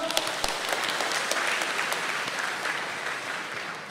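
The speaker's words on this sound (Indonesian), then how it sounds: "Boleh tepuk tangan buat kita semua." An audience at a stand-up comedy open mic applauds in a dense, steady burst of clapping that holds at an even level throughout.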